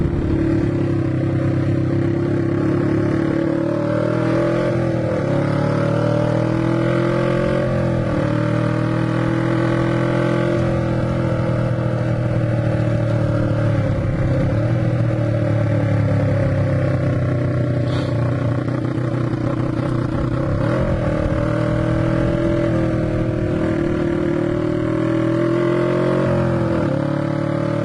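An old Honda CB twin motorcycle engine drones loudly and steadily throughout, its pitch rising and falling as the rider shifts and accelerates.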